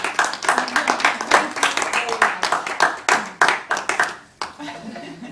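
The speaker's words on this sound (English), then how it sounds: "I suggest an applause for this very universal sign." Audience clapping after a presentation, a brisk run of individual hand claps, close and fairly loud, with a short pause before the clapping resumes more thinly near the end.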